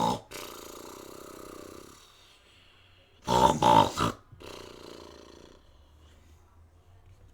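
A person's voice imitates a loud bear snore: a couple of deep, rattling grunting snores in a short burst after quieter humming, close to the microphone.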